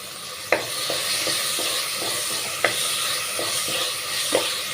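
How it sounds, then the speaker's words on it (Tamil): Tomatoes, green chillies and curry leaves sauté in a pan with a constant close sizzle, punctuated by a few sharp spoon knocks and stirring scrapes. "நல்லா மிக்ஸ் பண்ணி விட்டுக்கலாங்க தக்காளி வந்து நல்லா வதங்கி வரட்டும்"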